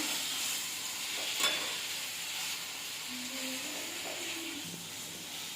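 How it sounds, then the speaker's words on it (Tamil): Onion, tomato and a little tamarind sauté in a pan with a steady soft sizzle and hiss, broken by an occasional scrape of stirring, close and fairly quiet. "இதையும் இது கூட போட்டு வதக்கிக்கலாம்"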